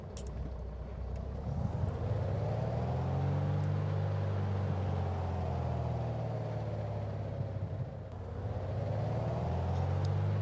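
A Piper Cherokee P28R's engine drones steadily during takeoff roll, a loud, continuous low hum with slowly rising and falling tonal sweeps.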